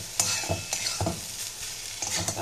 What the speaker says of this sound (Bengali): ভাতটা আমার ফ্রাই হয়ে গেছে, জাস্ট একটু সস দিয়ে মিশিয়ে এটাকে নামিয়ে নেবো